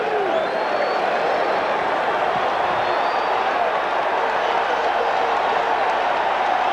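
Loud roaring crowd at Shea Stadium during Game 6 of the 1986 World Series, a continuous wall of cheering and clapping from a huge baseball audience, unbroken throughout.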